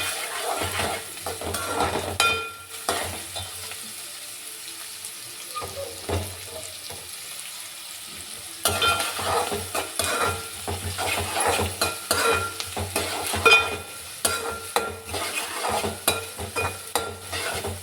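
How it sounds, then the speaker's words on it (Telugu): Green chilli and onion pieces sizzle in hot oil while being stirred in a pan for a fish curry, a steady frying hiss broken by repeated scraping and clinking strokes that grow busier in the second half. "పచ్చిమిరపకాయ ముక్కలు కూడా ఇప్పుడే వేసుకుంటే ఆయిల్లో వేగితే బాగుంటాయి."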